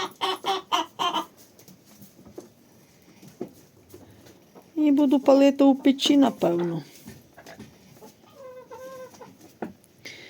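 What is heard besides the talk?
rooster crowing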